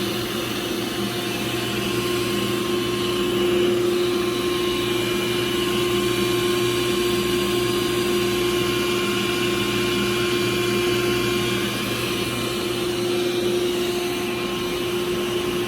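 A Grizzly T10113 dust collector runs on a 12-inch 5HP Grizzly G0605X1 table saw while thin rips are cut. It gives a constant, loud, steady roar with a tonal hum and no breaks.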